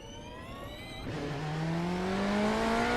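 A race car engine in a sim racing game at Talladega whines and climbs in pitch, with a gear change partway before it keeps accelerating louder.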